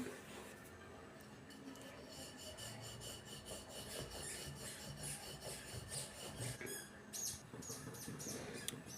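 Sweet potato puran poli dough being rolled out by hand: a soft, continuous rubbing and rasping at close range, faint and steady throughout.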